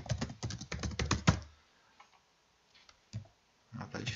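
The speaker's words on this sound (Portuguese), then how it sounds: "tá difícil digitar hoje" Typing on a computer keyboard: a quick flurry of close clicking keystrokes, then a near-silent pause with a few scattered taps, before another burst of typing starts.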